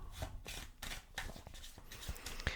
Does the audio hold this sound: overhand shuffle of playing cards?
yes